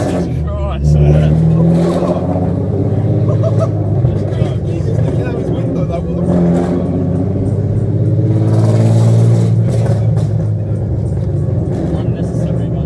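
Car engine revving loud and close, a steady roaring drone with surges in intensity, while people talk over it throughout.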